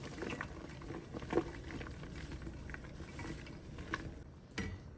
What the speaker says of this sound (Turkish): Evet fasulyeyi de şöyle üzerine boşaltıyorum.